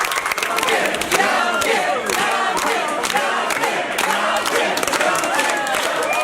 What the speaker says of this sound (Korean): 한국어로 인사를 건넨 영김이 지지자들의 환호를 받으며 선거 사무실로 들어섭니다